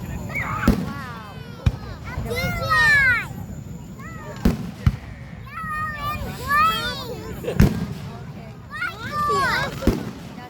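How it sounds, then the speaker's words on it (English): July 4th fireworks show in Tallahassee, Florida, with several sharp booming explosions at irregular intervals under excited children's voices and adults talking nearby. "That's a lot of fireworks."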